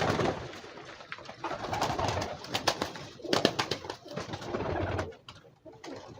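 Star pigeons coo in soft, throaty bursts close by, with wing flutters and rustling between the calls, at moderate loudness against a faint background.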